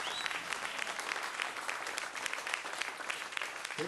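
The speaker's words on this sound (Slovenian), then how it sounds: "Pazite, kako ploskate!" Audience applause fills a live radio concert broadcast, dense steady clapping from a crowd, close and sustained throughout with no voices over it.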